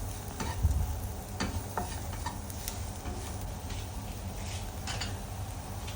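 Chili powder and coriander powder roast in a pan for paneer bhurji, giving a faint, soft sizzle broken by light ticking scrapes of stirring.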